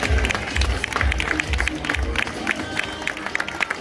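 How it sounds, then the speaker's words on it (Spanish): Spectators at the awards of the Spring Run Internacional 10 km road race in Playa de las Américas, Tenerife, applauding the top finishers. The clapping is a loud, sustained roar over steady low thumping in the background. "Ese fuerte aplauso para ellos"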